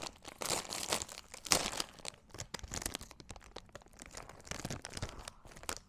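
A gift box being opened by hand, its wrapping crinkling, crumpling and tearing in loud, busy bursts that run continuously, close up and without speech.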